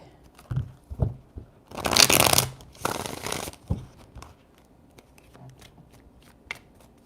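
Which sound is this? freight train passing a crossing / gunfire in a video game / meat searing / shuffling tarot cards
shuffling tarot cards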